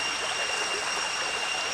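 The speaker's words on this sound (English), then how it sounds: "at a waterfall actually" Steady, dense rush of a jungle waterfall, loud and unbroken throughout with a constant hiss of falling water and no voices.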